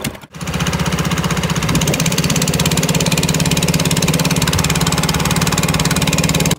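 A rented local fishing boat's engine runs steadily close by near Muara Gembong on the Bekasi coast, a loud, constant rapid knocking putter with no talk over it.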